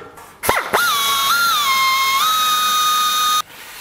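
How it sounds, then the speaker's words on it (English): A drill bores a second rivet hole beside a cleco clamp in aircraft sheet metal, a loud high whine that spins up sharply, holds steady for about three seconds, then cuts off abruptly. "I can pull the cleco clamp and drill that second hole"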